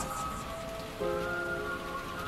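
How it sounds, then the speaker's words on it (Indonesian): Steady rain patters as a sound effect in an Indonesian radio horror drama, a dense, even hiss of falling drops beneath a faint sustained musical tone, with no speech. "Rasanya hampir setiap hari hujan turun."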